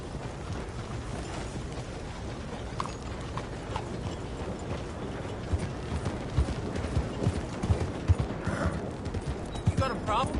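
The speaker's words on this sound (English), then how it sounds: "the hell of a horse you got there?" Horse hooves clip-clopping in a PS4 video game, a steady run of close, distinct hoof falls with game sounds and a voice talking over them.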